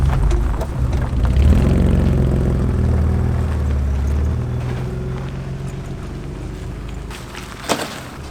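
An abandoned BMW's engine drones steadily as the car creeps forward out of a rough spot, a low, loud rumble that slowly eases off, ending with a sharp knock near the end.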